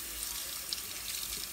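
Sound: water running from a tap to rinse something off

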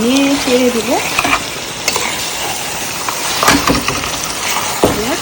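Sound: chicken pieces frying and being stirred in a pan

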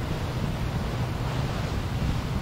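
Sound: ocean waves near the harbor in the video game Bus Simulator 18

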